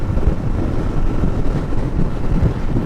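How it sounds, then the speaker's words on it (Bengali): Strong wind buffeting the microphone beside a railway line with canals and open wetland around, a continuous loud low rumble with no talk. "আর অনেক বাতাস হইতেছে তো"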